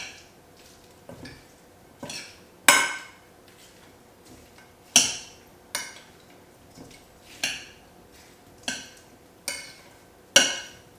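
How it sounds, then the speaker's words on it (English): Kiwi and watermelon salad tossed with a honey-lime dressing in a bowl, giving nine or so separate clinks and scrapes of a utensil against dishware at a slow, uneven rhythm, close and fairly quiet with no talking. "And now let's mix our salad."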